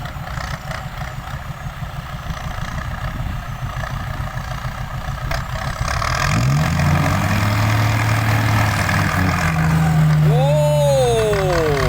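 A Kubota M60 tractor engine runs loud and steady at close range while pushing a vehicle stuck in mud, rising in power partway through, with a higher revving engine whine near the end.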